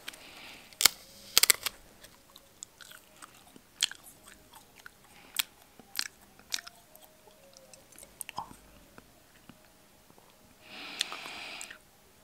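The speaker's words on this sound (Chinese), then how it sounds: "下面这一层尝一下。" Raw wild lingzhi mushroom being bitten and chewed, a series of sharp, close crunchy bites and snaps scattered over several seconds, with a brief rustling burst near the end.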